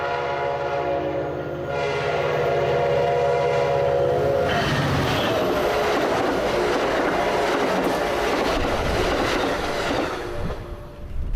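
The Southwest Chief passenger train sits at the Albuquerque platform, a long sustained horn sounding first before giving way to loud rolling rail rumble, wheel squeal and clatter close by, with no voices.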